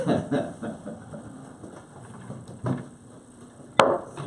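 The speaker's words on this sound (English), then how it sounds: "We'll hammer it twice more and we'll call this thing back into." A hammer or gavel strikes at a county commissioners' meeting, with one sharp, loud crack standing out near the end above steady room noise and a low hum.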